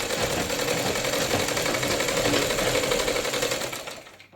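A sewing machine runs in a fast, even stitching rattle, sewing a Rajputi kalidar lehenga, close and alone for about four seconds before stopping.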